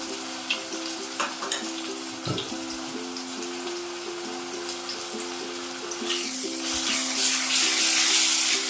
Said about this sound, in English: అల్లం వెల్లుల్లి పేస్ట్ పచ్చివాటిని పోయేంత వరకు వేయించుకోవాలి